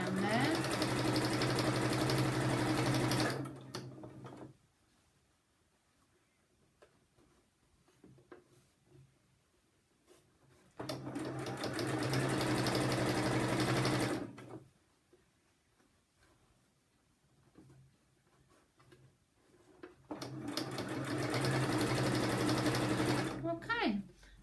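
An electric sewing machine stitches fabric bunting pennants in three loud, fast-whirring bursts of several seconds each, separated by quieter pauses with faint handling noises.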